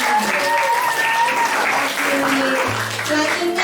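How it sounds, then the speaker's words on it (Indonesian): An audience at a school discussion session claps for Rosa, a steady wash of applause with voices and some tonal sounds running underneath, loud and continuous throughout. "Boleh tepuk tangan buat Rosa."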